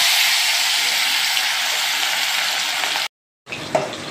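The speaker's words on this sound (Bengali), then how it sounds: "কড়াতে তেল দিয়ে দিয়েছিলাম, তেলটা গরম হয়ে গেছে। এবার মাছগুলোকে আমি ভাজা করে নিচ্ছি।" Fish frying in hot oil in a wok, a loud, steady sizzle that holds for about three seconds, cuts out abruptly, then resumes more quietly with a few crackles.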